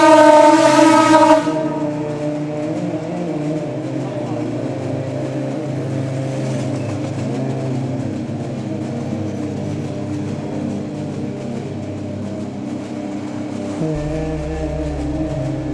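A loud train horn blares briefly at the start, then the train rumbles past steadily with rolling wheel and track noise until it fades near the end.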